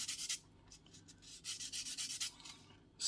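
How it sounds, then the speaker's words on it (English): A sanding sponge rubs over the flashy wheels of a 1/48 Tamiya Buffalo plastic model kit, making close, dry scratchy strokes in repeated bursts with short pauses between them. "Just cleaning up with a sanding sponge."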